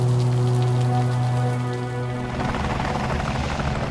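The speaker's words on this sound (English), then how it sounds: "Military choppers!" Military helicopters in a video game, heard as a loud, close rotor drone with a strong steady low hum that shifts into choppy thudding beating alongside a rain-like hiss, with no speech.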